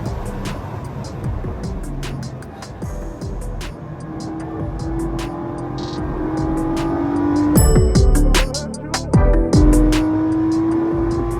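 A car on the Laguna Seca circuit near the sound booth by turns 5 and 6, a steady engine drone that rises in pitch and swells louder as it sweeps past nearby.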